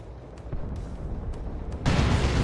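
Gunfire in the real-time strategy game Warhammer 40,000: Dawn of War 2, a Space Marines versus Chaos Space Marines match, rumbling as a dense low barrage that swells louder near the end amid battlefield noise.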